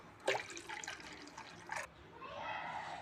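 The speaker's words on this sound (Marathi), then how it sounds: "जेवढं लागलं तेवढं पाणी टाकायचं।" Water is poured into ground fennel and cumin for pani puri, heard as a faint splashing pour with soft drips that settles into a quieter trickle.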